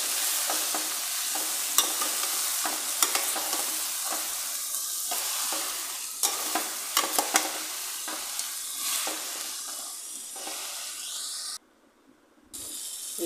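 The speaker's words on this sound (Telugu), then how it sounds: "ఇలా కర్రీ మొత్తం మిక్స్ చేసిన తర్వాత" Rayalaseema-style ridge gourd curry is stirred in a frying pan, with a continuous close sizzle and repeated scraping strokes of the spoon. The sound drops out briefly near the end.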